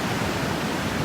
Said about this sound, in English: The waves right here, when they're breaking on that shallow sandbar